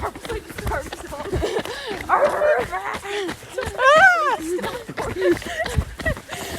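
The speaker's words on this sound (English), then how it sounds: "I'm gonna purposely disturb the dog." A dog gives a few short yips and whimpering barks in a room, mixed in with ongoing talk from people nearby.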